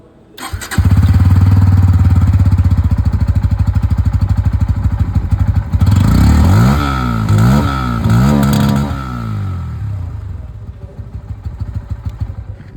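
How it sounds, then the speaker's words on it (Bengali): A 160cc motorcycle engine cranks and fires up, settling into a loud, close, throbbing idle through the exhaust, then revs up and down a few times in rising and falling sweeps before easing back to idle. "আর ইঞ্জিনের এক্সস্ট সাউন্ডটা আপনারা একবার শুনে নিন।"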